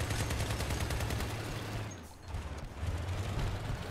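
Vehicle-mounted weapons fire in a Crossout battle as a dense, continuous barrage of rapid gunfire and booms. It dips briefly near the middle, then resumes at full, loud intensity.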